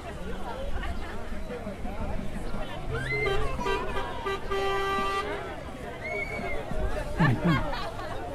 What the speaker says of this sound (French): ils klaxonnent et les félicitent